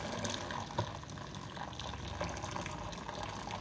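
Water pours and splashes through a kitchen strainer while cooking food, a continuous loud gushing with small bubbling splashes throughout.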